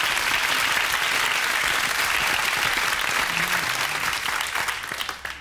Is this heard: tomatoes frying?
no